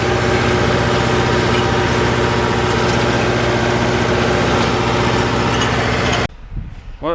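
A diesel tractor running short of fuel on an organic leek plot, a loud close steady idling drone with a strong rhythmic thrum that cuts out abruptly near the end, leaving only faint rustling.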